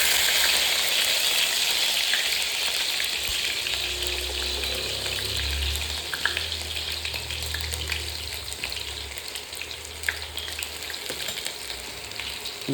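Mustard seeds sizzle in hot oil in a pan, a steady loud frying hiss scattered with small crackles and pops, with no talking.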